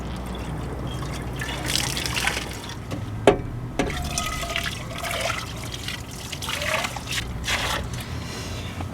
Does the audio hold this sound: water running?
yes